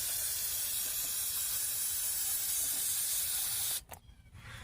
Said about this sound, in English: when mechanic sprays your brake clean